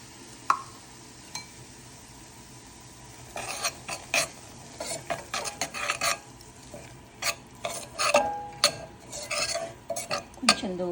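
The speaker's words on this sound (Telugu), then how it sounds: "ఇది నెయ్యిలో రవ్వ వేయించుకుందాం." Semolina fries in ghee for rava payasam while a spoon stirs and scrapes the pan, soft sizzling under a run of close, irregular scraping strokes that grow busier after a quiet start.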